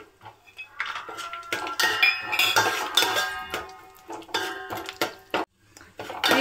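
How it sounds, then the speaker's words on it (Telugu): Cashews and dry fruits frying in ghee get stirred in a pan with a metal spoon, giving repeated clinks and scrapes against the pan in an uneven rhythm, close and clear, with no talking. "నెయ్యి వేసుకొని డ్రై ఫ్రూట్స్ ఫ్రై చేసుకుందాం"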